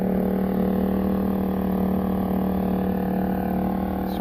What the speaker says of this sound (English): Generator is running. It's not very loud.